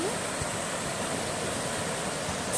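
Waterfall beside the Appalachian Trail, a steady close hiss and rush of falling water with an even level throughout and a faint voice in the background.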